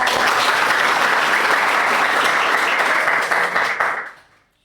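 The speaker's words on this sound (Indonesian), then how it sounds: "Beri tepuk tangan yang meriah." A podcast studio audience greets a school headmaster from SMAN 4 Madiun with dense, steady applause that holds loud and close before fading out quickly at the end.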